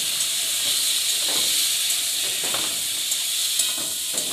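Vegetables dropped into a hot pan give a loud, continuous hissing sizzle with occasional sharper spatters and stirring scrapes, close by and without any voices.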